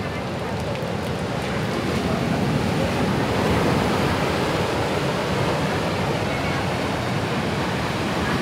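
Ocean waves at Drini Beach in Gunung Kidul, Yogyakarta, a steady loud wash of surf filling the whole stretch, with continuous broadband roar and some wind noise.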